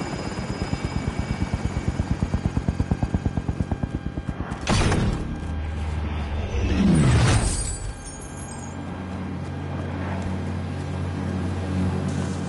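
A Call of Duty: Warzone helicopter chops loudly with a rapid rotor beat, then whooshes past with a swelling roar and fades into a steady engine drone as it flies off.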